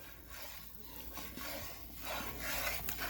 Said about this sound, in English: You gotta keep stirring it the whole time.